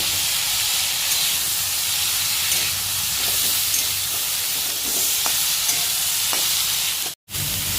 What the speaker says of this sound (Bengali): টমেটোটাকে মা সবজির সঙ্গে নেড়ে চেড়ে একটু নরম করে নেবে